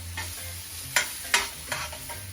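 Black beans and onions frying in a pan over medium heat, a soft steady sizzle broken by a few sharp spatula scrapes and stirring clacks, close and fairly quiet.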